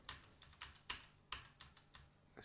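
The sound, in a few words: typing on a computer keyboard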